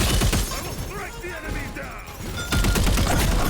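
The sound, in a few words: gunshots in the video game Time Takers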